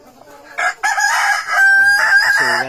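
A Darag native rooster crows close by in a rural yard, one loud, drawn-out cock-a-doodle-doo after brief clucks, ending in a wavering tail.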